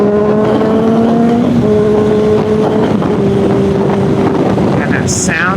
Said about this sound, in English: there is just a feeling on these inline 4 motorcycles